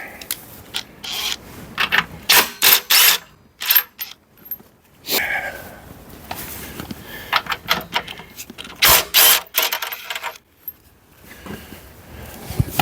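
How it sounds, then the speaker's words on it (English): A handheld impact wrench works loose the 19 mm rear axle nut on a Fucare Gemini X e-bike, giving loud repeated bursts of rapid hammering separated by short pauses, close to the mic, with some clinking of metal parts in between. "Use my impact wrench for this because I have it at home today."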